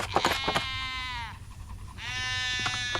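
Sheep bleating on a farm while being herded, several loud close bleats with clattering hoof or pen noises between, no talk heard.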